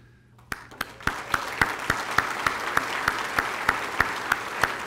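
Applause for committee members at a school district's State of the District event in Arlington, swelling from near quiet into broad, steady crowd clapping, with a single nearby clapper beating out a strong, regular rhythm over it.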